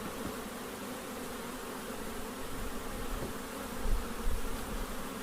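Honeybees buzz steadily around an open long hive, a soft continuous drone close by with a few louder passes near the end.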